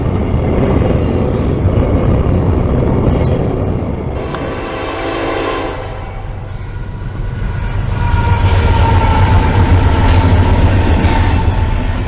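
A Norfolk Southern train rumbles steadily past a crossing close by, loud and continuous, with rolling wheel noise and a faint metallic squeal rising in the later part.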